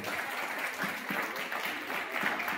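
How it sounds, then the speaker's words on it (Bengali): Students at a school seminar and quiz give applause for the teachers who organised it, a sustained wash of clapping from a crowd, fairly faint and distant, running evenly throughout. "যারা যে মাস্টার মশাই দিদিমণিরা মাথা নেয় অক্লান্ত পরিশ্রম করে সেমিনার আয়োজন করেছে তাদের উদ্দেশ্যে একটি জোরে করতালি দাও।"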